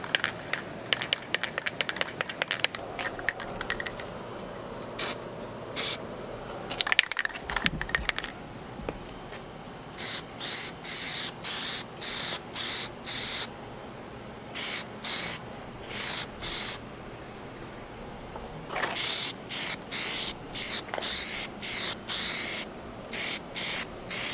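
Spray coating is applied during a Honda Integra axle install in repeated short hissing bursts, some rapid and clustered, others spaced out in steady pulses, fairly close with quiet gaps between.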